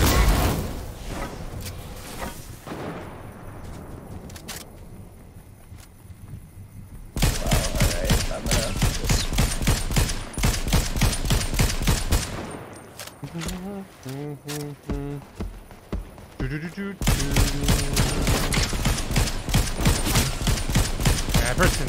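Rapid bursts of gunfire in a Fortnite-style squads cup match, long loud volleys broken by short pauses with mechanical clicks and reload sounds, while a player talks over it.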